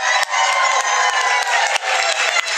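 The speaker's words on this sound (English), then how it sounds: "could everyone cheer for Robin one more time?" An audience cheering for someone, a loud close crowd roar with whoops, shouts and some clapping, sustained throughout with brief dips.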